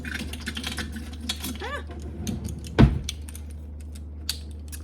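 A metal measuring spoon taken out and handled in a kitchen, light clinks and rattles scattered through with one louder clatter midway, close by.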